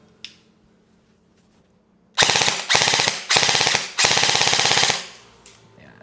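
An ENC 855 airsoft rifle running on a LiPo battery fires on full auto in four loud, close bursts of rapid mechanical shots separated by short pauses, with quiet room tone before and after.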